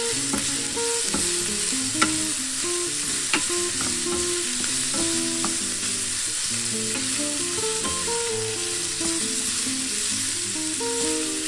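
Green beans and meat for adobong sitaw sizzle and fry in a little oil while being stirred, giving a constant loud hiss with scraping and clattering of a utensil against the pan.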